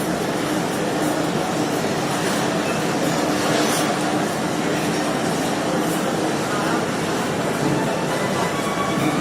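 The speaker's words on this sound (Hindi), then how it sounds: "हम ट्रेन हमारी यहाँ से चल पड़ी है लाहौर से" The Jaffar Express pulls out of Lahore railway station, its dense, steady rumble and rattle of wheels on track filling the whole stretch at a loud, even level.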